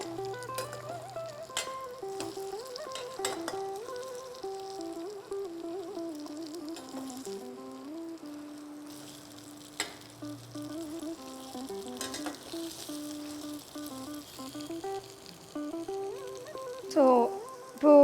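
Idli cubes fry slowly in hot oil for a chilli idli dish, giving a soft, continuous sizzle and bubbling with occasional stirring clicks, while background music plays throughout.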